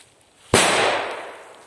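A Dragon firecracker with a red flare goes off outdoors in a single sharp, loud bang, followed by a broad hiss and rumble that slowly fades.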